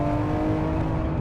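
A 1000 hp Nissan Skyline R34 engine revs hard at half throttle to about 7,500 RPM, a loud, steady, close-up drone with a dense rumbling low end and no talk over it.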